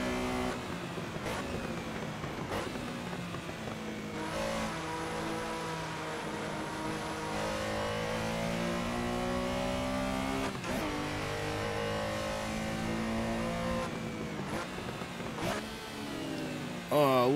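Porsche Carrera engine in the Assetto Corsa racing sim, revving hard and over-revving, with rising and falling harmonic engine whine throughout, sharp gear-change breaks and loud sustained drive near.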